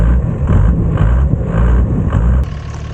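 A car stuck in clay has its engine straining in repeated pulses, with wheels spinning at a steady rhythm of surges, loud and close, alone without talk.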